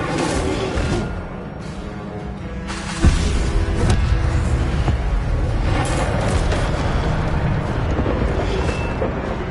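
Hogwarts Legacy spellcasting, including the Incendio fire spell, gives whooshing bursts and a sharp boom a few seconds in, followed by sustained rumbling fire and effects under game ambience.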